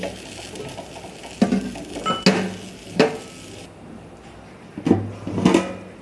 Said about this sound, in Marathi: आता आपण याच्यावर वजन ठेवून देऊ.